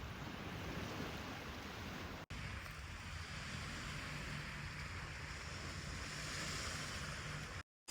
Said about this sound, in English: I guess the sound of the waves mixed with the rain made the perfect lullaby.